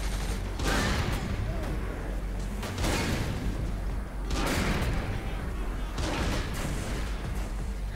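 Gunfire rakes a tank in Saints Row 3 horde mode, dense bursts of shots and blasts swelling in waves over a constant heavy rumble, loud and close throughout.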